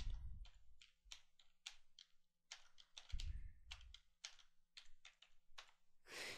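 Keys on a computer keyboard are pressed one after another as a file name is typed, the quick, uneven taps close and fairly quiet with a couple of heavier thumps.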